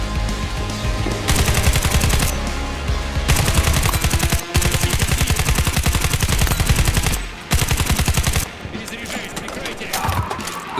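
An automatic weapon fires in War Thunder infantry combat, loud and close, in long sustained bursts of rapid shots with brief pauses between strings.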